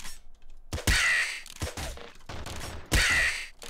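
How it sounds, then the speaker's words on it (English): Harsh cawing crow calls from the video game Nuclear Throne, two loud bursts at the start and end with quieter gunfire-like pops scattered between. "They'll cease being loud, obnoxious crows."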